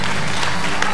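A church congregation breaks into loud applause during an evening service, a brief, dense and close burst of clapping with a full crowd roar and no clear gaps.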